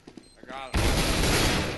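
Sustained automatic gunfire in Counter-Strike: Global Offensive erupts suddenly and continues as a loud, dense burst after a brief moment of talk.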